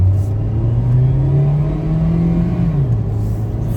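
A car accelerates at full throttle onto a freeway, heard from inside as a loud, steady engine drone that rises in pitch, then dips as it shifts, with no talk.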